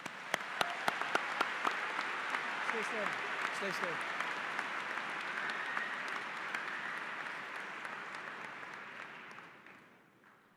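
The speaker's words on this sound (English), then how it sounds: "A round of applause, please." Sustained audience applause and cheering fill a high school commencement ceremony at Livonia Stevenson High School, steady and dense for about ten seconds before tapering off, with a few sharp claps standing out near the start and a voice speaking over it.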